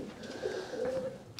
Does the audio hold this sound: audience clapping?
no